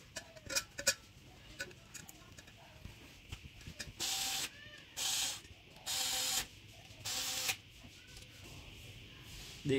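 A screw being tightened on the plate of a 5-litre lassi bilona churning machine, giving quiet ticking ratchet clicks, then four steady bursts of harsher mechanical whirring, close and faint.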